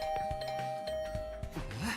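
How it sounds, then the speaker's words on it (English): A doorbell rings again and again in quick succession, a bright ding-dong chime repeating over steady background music in an anime-style school game scene. "The sudden barrage of doorbell rings took me by surprise"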